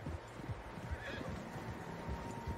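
Horses in the Red Dead Redemption 2 video game whinny and neigh over a steady clip-clop of hooves, with a busy, continuous background of game ambience throughout.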